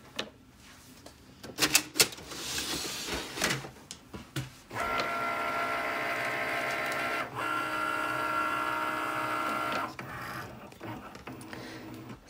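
A Cricut cutting machine scans registration marks on sticker paper for print then cut, starting with scattered clicks and whirs, then a steady mechanical buzz of the carriage moving, briefly interrupted, before winding down.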